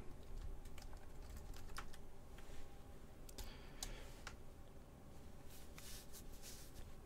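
A password is typed on a computer keyboard as a quiet, steady run of soft, irregular key taps against low background noise, with no talking.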